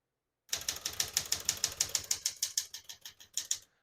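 Rapid typing on a 1973 Smith-Corona Sterling portable manual typewriter: a close, steady run of about twenty sharp key strikes at an even rhythm, slowing slightly toward the end, with no talk.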